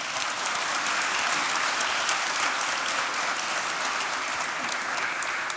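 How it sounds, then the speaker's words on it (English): Sustained applause from the crowd at a launch event, a uniform, dense patter of many hands clapping at steady volume from start to finish, with no talking over it. "a huge round of applause for him"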